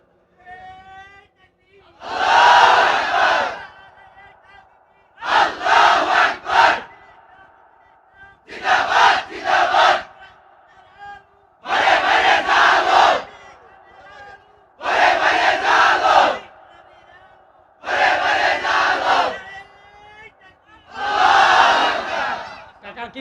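A crowd chants religious slogans in unison, seven loud bursts of massed voices roughly every three seconds with short pauses between, rising and falling like call-and-response at a gathering.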